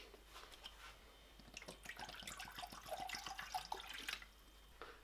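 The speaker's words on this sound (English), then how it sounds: "Fill this up with fresh water." Fresh tap water runs into a plastic water bottle in a home kitchen, a faint, steady splashing trickle with scattered drips that grows busier as the bottle fills, then tapers at the end.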